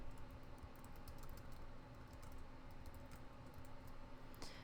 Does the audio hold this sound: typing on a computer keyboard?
yes